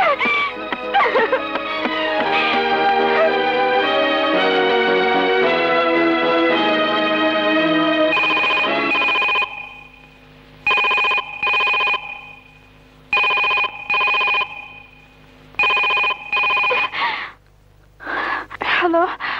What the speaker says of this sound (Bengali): কি ব্যাপার নদী, ফোন ধরতে এত দেরি কেন?